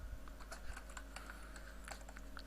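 Quiet keystrokes on a computer keyboard, a quick irregular patter of light clicks over a low steady hum.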